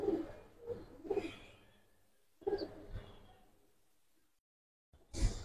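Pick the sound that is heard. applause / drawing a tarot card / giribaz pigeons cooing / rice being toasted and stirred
giribaz pigeons cooing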